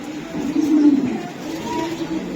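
A racing pigeon from the BRPFC club, held in the hand, gives a low, steady, rolling coo close by that swells in the middle and carries on without a break.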